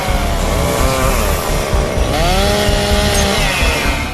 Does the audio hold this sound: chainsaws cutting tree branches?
yes